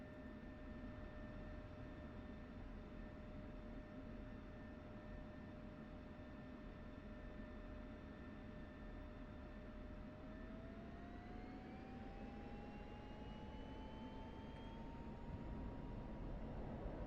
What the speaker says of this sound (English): I get taxied out and take off with my wingman.